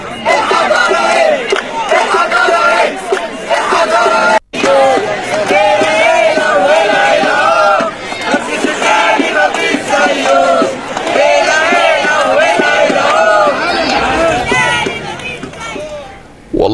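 A large crowd cheers for a Ramses II statue in a dense, loud, continuous roar of many voices shouting and chanting together, with one brief drop near the middle before the roar picks up again.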